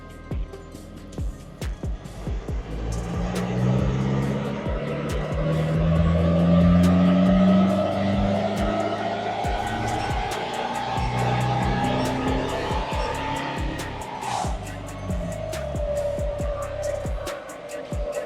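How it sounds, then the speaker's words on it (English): A car on a chassis dyno with its rear wheels on the rollers revs up through a long pull, engine pitch climbing steadily and loudly for about fifteen seconds before dropping off, with no voices. "I'm going to start the run now."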